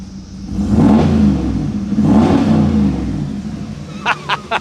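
A 2019 Ram truck fitted with an AWE 0FG exhaust revs twice in long rising and falling swells heard from inside the cab, followed by a few quick short blips at the end.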